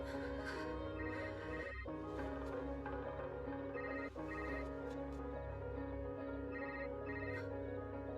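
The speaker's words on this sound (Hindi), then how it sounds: "किसका फोन आ रहा है?" A phone ringtone plays continuously at night, a repeating melodic pattern at moderate volume, with brief dips in between phrases.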